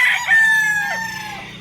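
A dark-legged hen close by gives a drawn-out, wavering call followed by a brief falling note, with a faint background hum.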